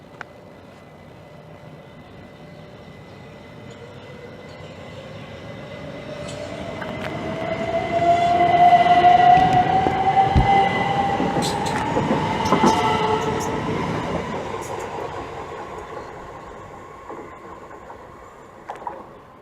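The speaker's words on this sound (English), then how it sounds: "And is now departing, left to its next stop of Rainham." A Class 375 electric multiple unit departs Gillingham station on the Chatham Main Line, its motor whine rising in pitch as it pulls away, with clattering wheels building to a loud passing roar before fading.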